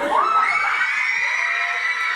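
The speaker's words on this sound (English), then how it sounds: "That's a crowd." A large crowd of school fans shouts and cheers in a sustained, loud roar of many excited voices, continuous for the whole moment with a rising whoop near the start.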